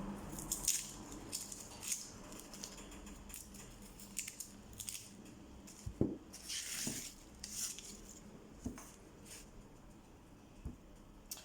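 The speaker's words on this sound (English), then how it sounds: "And I'm just going to roughly chop." A not-very-sharp knife roughly chops an onion on a cutting board in a home kitchen, giving irregular soft thuds and clicks, fairly faint, with no talk.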